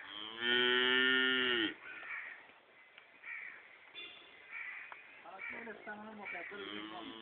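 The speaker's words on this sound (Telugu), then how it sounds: "ఒక గేదె నాగేంద్ర గారు కొన్నట్టున్నారండి ఆయన దగ్గరది" A buffalo lets out one long, loud moo near the listener, followed by people talking and crows cawing in the background.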